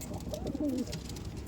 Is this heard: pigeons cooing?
yes